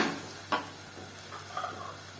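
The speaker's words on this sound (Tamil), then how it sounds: "மூடி எடுத்துடலாம். எடுத்துட்டு கலந்து விட்டுடலாங்க." Onion and capsicum masala stirred in a pan just after the lid comes off, with a faint background sizzle and a few soft scraping strokes, one sharper clink near the start, all quiet and close.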